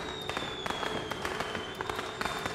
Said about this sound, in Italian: Ah, fuochi d'artificio. Una bella accoglienza.